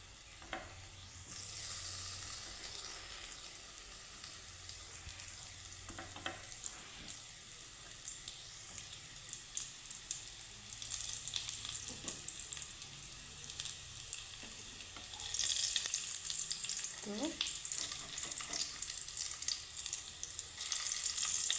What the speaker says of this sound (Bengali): গ্যাসের ফ্লেমটাকে একদম লো করে এটাকে আমি ফ্রাই করে নেব